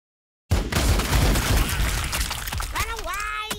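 Rapid gunfire from the Warhammer 40,000: Sanctus Reach strategy game begins abruptly as a dense, loud burst of shots, easing into a rumbling tail while voice-like chatter rises near the end.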